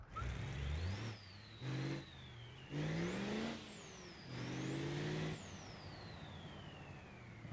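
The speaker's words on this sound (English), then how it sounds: "listen to that turbo" A turbocharged car engine in the BeamNG driving game revs hard in several separate bursts, its pitch swooping up and down with each throttle blip, loud and close, with no talk over it.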